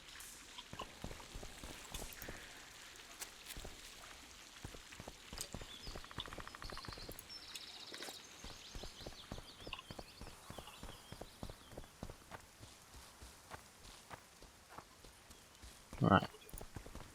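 Roach, Geralt's horse in The Witcher, clip-clops in a steady, quiet hoofbeat rhythm that continues throughout, with a brief louder knock near the end.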